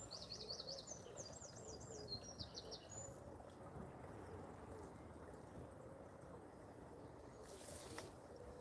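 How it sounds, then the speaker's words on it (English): Small birds call in quick chirping bursts over the first few seconds, fairly clear above a steady low outdoor rumble, then fade out leaving only the background. "Oh, the little birds come here."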